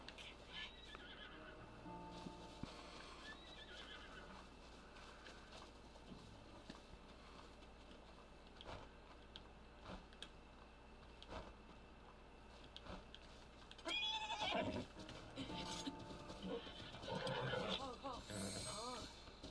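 A horse whinnies in a video game, with a loud neigh and clip-clop sounds near the end over steady game background sound and some quiet talk.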